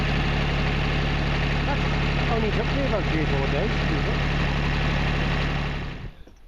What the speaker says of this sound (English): But the engine bit of it's working well.